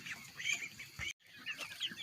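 Chickens in a coop cluck and murmur softly nearby, a low busy chatter of several birds with a brief dropout partway through.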